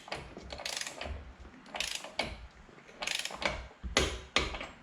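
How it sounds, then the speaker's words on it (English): Ratchet wrench torquing the rear axle nut on a Harley-Davidson motorcycle, several close bursts of fast clicking strokes with short pauses between them, loud and without speech. "Now you're gonna torque this nut to 20 foot-pounds."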